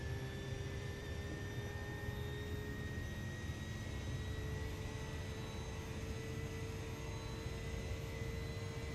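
A race car engine held at full throttle in the iRacing video game on a wet Nurburgring lap, a steady, unbroken high-pitched roar with a sustained whine, loud and continuous throughout.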